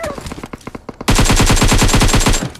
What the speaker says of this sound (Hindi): इसका जो सेकंड वाला टीममेट है वो फायरिंग देता है